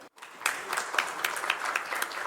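An audience at the Voices of Harvest Awards 2025 bursts into applause welcoming farmers from across India, a brief gap giving way to a dense, moderately loud round of clapping that holds steady to the end.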